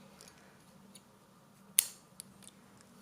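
Surgical scissors snip suture thread after a simple interrupted stitch: one crisp, close cut in an otherwise quiet room, followed by a couple of faint small clicks.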